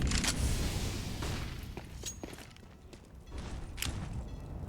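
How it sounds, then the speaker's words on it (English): In Counter-Strike on the Overpass map during an IEM Rio 2023 match, bursts of gunfire punch through wooden boards, heard as rapid, fairly distant cracks and thumps over a low rumbling game ambience. "You can see bullets coming through the boards."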